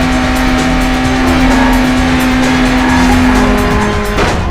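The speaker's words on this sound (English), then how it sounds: "Burnout takes us back to the sheer thrill of high-speed racing, dodging through packed traffic, executing stunning power drifts" Cars power drifting in the Burnout racing video game, tyres squealing in a long, loud sustained screech over roaring engines, with no talk.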